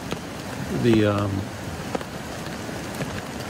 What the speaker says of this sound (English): It rains, as you can hear